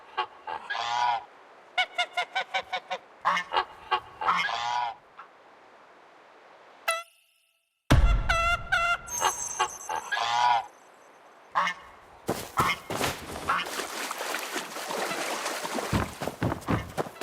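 Geese in the game Where Winds Meet honk loudly in repeated bursts, a flock of nasal calls broken by a short silence and followed by busier game sounds.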